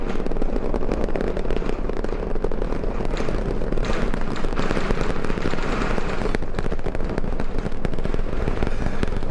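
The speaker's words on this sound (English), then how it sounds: "We got a lift off." A SpaceX Starship rocket with Raptor 3 engines lifts off in a dense, continuous crackling roar that stays loud and sustained throughout, with no clear voices over it.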